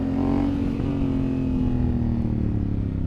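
Honda Africa Twin motorcycle accelerating off road in a power wheelie, a loud steady engine drone with the pitch slowly climbing and then easing, close and unbroken.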